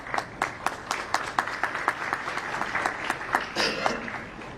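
Audience applause in a hall at the Lahore Chamber of Commerce during a foreign minister's speech, moderately loud, with distinct individual claps standing out over a steady bed of hands that carries on evenly.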